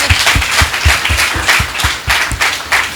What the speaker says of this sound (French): Alors ça s'applaudit.